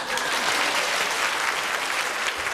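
A theater audience applauds continuously and steadily, a dense even clatter of many hands heard close and loud throughout, with no speech over it.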